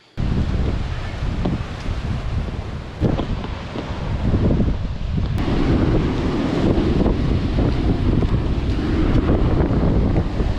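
Choppy surf at a beach washes and churns under heavy wind buffeting on the microphone, a constant loud roar with occasional sharper splashes.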